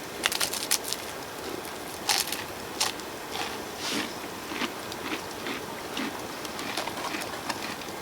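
Cracker biscuits are crunched and chewed close up during a camp-out, with repeated crisp, irregular bites and chewing that come in short bursts over a soft outdoor background.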